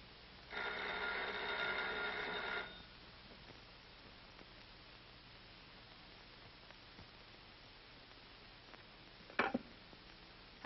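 A telephone rings on a long-distance call, a burst of bright electronic ringing lasting about two seconds over faint hiss, followed by quiet line noise and a brief click near the end.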